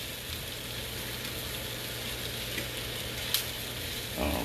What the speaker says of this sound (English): That right there is going to saute down nicely.